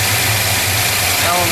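A car engine fitted with a Holley carburetor idles with a plug removed, giving a loud, steady, close rumble throughout without any change in speed.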